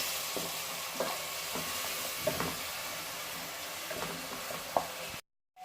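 Onion paste sizzles steadily in a hot pan, with occasional stirring clinks and scrapes, before the sound cuts off abruptly near the end.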